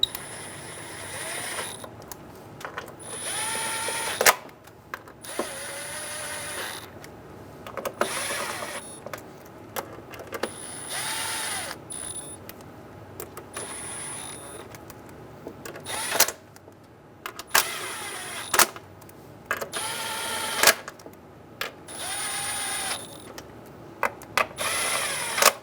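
On a Honda Pilot, a hand ratchet snugs down the fuel injector cover bolts in repeated short bursts of rapid clicking, each separated by pauses, close and with no voices.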